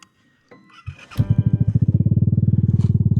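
A Vespa Primavera scooter fitted with a Malossi CVT starts up, its engine settling into a loud, close, steady rapid pulsing after a few soft clicks and clunks.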